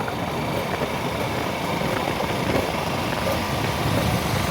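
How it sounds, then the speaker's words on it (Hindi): A motorbike engine runs steadily on a hillside outing, a constant close buzzing drone with no pauses or revving. "स्टार्ट हो गला बाइक"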